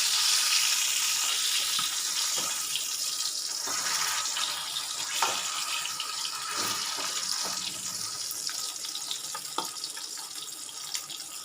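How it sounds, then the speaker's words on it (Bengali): Pieces of boal fish fry in hot oil for a Bengali fish curry, giving a steady, close, loud sizzling hiss with faint crackles throughout and no voices. "তেল গরম হয়ে গেছে, এবার মাছগুলো সব ভেজে নেব।"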